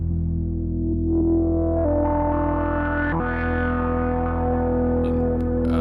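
A Moog Subsequent 37 analog synth tone holds steady and loud, buzzy and harmonically rich, with a gritty driven edge and overtones sweeping brighter as a filter opens.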